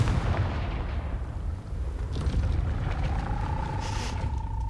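Confringo fire spell blasting at a gate in Hogwarts Legacy, a loud, sustained roaring boom with rumbling low end that carries on throughout, ending with a thin rising whine.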